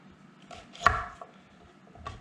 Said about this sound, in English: I'll trim off the ends.